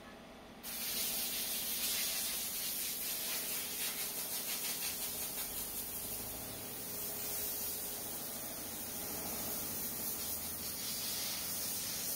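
Steady broadband hiss and rubbing of a polishing job on a car headlight lens being restored in a workshop, continuous and fairly close, with no talk.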